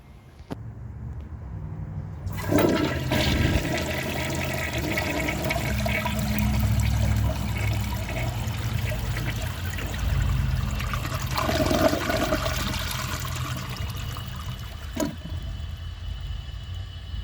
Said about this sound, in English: This toilet has a very awesome flush, just like the first one.